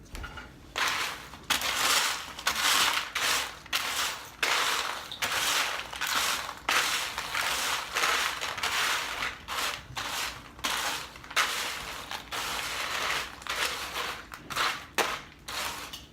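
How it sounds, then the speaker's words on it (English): Crispix cereal snack mix being stirred, a steady run of dry crunchy rustling and scraping in quick repeated strokes, fairly close and alone with no talk. "Now, we need to stir it."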